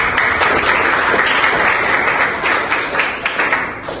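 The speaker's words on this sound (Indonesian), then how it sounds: "tepuk tangan dulu" Loud, steady applause from a crowd, dense clapping that fills the room and tapers slightly toward the end.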